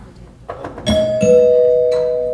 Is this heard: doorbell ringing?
yes